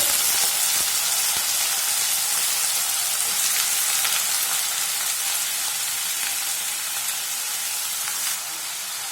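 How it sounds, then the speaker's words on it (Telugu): Broad beans (chikkudukaya) frying in hot oil with softened onion in a pan, giving a steady, close, even sizzle and hiss throughout with no talking. "ఇలా వేసుకున్న తర్వాత ఒకసారి బాగా కలుపుకుందామండి ఈ చిక్కుడుకాయని కూడా ఈ ఆయిల్లోనే"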